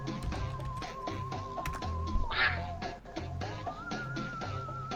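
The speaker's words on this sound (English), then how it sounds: "Why am I typing on my keyboard?" Fingers type on a computer keyboard in a quick, uneven run of close tapping clicks, with a thin whistling tone running underneath.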